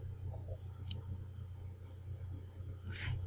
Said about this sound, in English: If I want to check what is the name of this computer, I'll right click on computer and click on properties